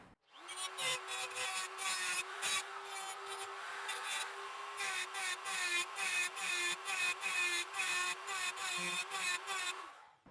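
A Sturmax GMM2365P 650 W die grinder works 1.5 mm stainless steel sheet clamped in a vise, giving a steady high whine with a repeated rasping, chattering grind that pulses as the tool is pressed and eased off.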